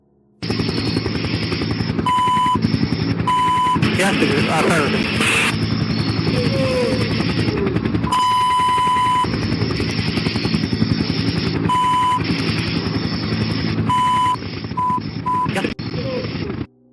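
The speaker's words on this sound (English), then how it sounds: "There are sounds of a helicopter lurking by." A helicopter drones steadily throughout, loud and continuous, with a broad rotor-and-engine roar, cut by brief tonal beeps and short gaps near the end.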